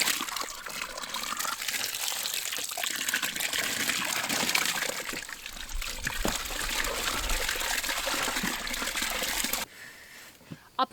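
Rainwater pouring steadily into a container of alpaca fleece for washing, a continuous close trickling gush that stops abruptly near the end, followed by a few faint knocks.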